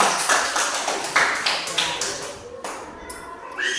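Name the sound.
classroom applause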